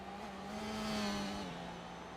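A Formula 1 car in a racing video game drones steadily through a Las Vegas qualifying run, its engine holding a sustained pitch that shifts down a gear near the end, very faint and continuous.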